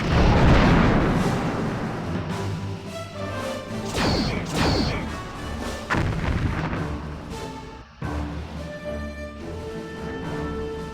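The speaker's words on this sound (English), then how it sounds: "Lining up rear torpedo tubes." Ship torpedoes launching and explosions in the Star Trek Bridge Commander space combat game, a dense run of loud whooshing launches and heavy booming impacts layered over a continuous game soundtrack, with no voices.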